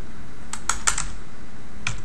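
A few scattered keystrokes click on a computer keyboard, close up, with brief irregular gaps between presses.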